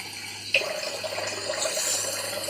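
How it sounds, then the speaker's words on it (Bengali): Liquid gravy is poured into a simmering prawn and potato curry, starting with a sudden splash and settling into a steady, close trickling pour, without voices. "এখন একটু ঝোল দিয়ে দিলাম"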